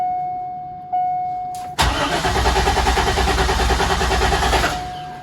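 A Corvette C5 engine cranks loudly on the starter for about three seconds after a brief click and a rising electrical whine, with a steady rhythmic churning that ends without the engine catching.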